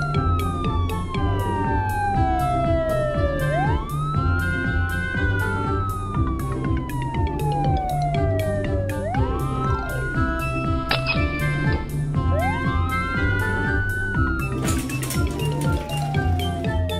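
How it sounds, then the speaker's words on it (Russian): A cartoon police car siren wails in long falling and rising sweeps, repeating about four times over steady background music, loud and close, with a bright clinking burst near the end. "Это полицейская машина."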